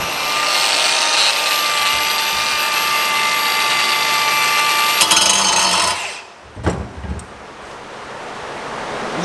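Loud, steady pneumatic riveting or power-tool roar on a homemade push car built from a Fiat, running continuously for several seconds before cutting off, followed by a few short knocks and clanks.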